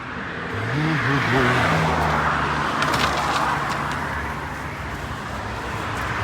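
A car with a 4.7-litre engine climbing a mountain road, its engine droning close and steady as it shifts pitch through the first seconds, then settling into a continuous rumble with road noise.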